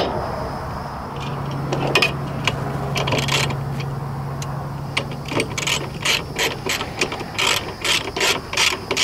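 Rapid clicking of a ratchet wrench tightening a bolt through a billboard sign frame, a quick series of sharp metallic ticks that turns into slower, rhythmic strokes.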